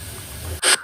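Onion vadam sizzles in hot oil as a sudden short burst of bright frying hiss, following a quieter stretch of low background sound.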